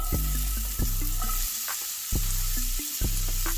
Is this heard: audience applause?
no